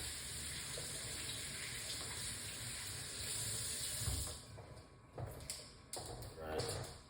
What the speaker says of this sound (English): we're gonna get the ginger washed off and grate the ginger